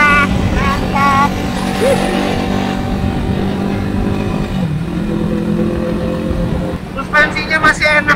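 A 1974 Honda CB100 motorcycle ridden on a sunny day, its small engine droning steadily and close throughout, with some faint background voices and a brief rise in revving near the end.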